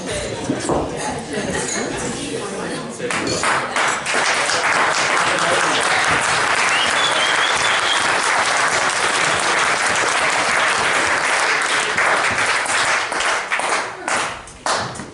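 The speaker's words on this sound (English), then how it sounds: "Please give applause for the Tadas." Wedding guests applaud steadily and loudly, sustained clapping from many hands with a few faint glass clinks and voices mixed in.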